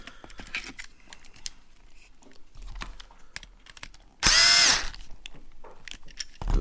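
A power drill tightens a wire terminal screw in a single loud whirring burst of about half a second, among soft handling clicks and taps, with no voice.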